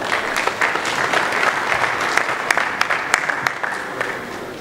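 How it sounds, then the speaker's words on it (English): Audience applause at a 2018 Nigerian sports betting summit as the association chairman is called forward, a dense, steady roar of many hands with sharp individual claps standing out throughout. "Round of applause, please"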